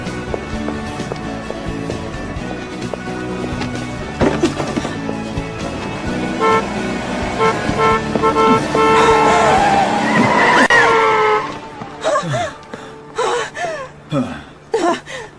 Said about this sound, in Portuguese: Mas o carro ia atropelar você.